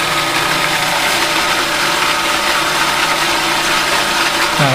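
Blender motor running at a constant loud whir while blending a salad dressing mix, steady and close with no pauses and no talking.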